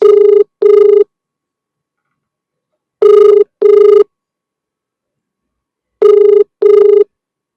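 A telephone rings during a prank call, giving three loud, evenly spaced double rings with silent gaps of about two seconds between them. No voices are heard.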